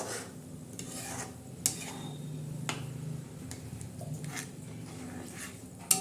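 Besan is stirred in a pan with soft, steady scraping over a faint sizzle, broken by a few sharp clicks of the utensil against the metal; quiet and close, with no voices.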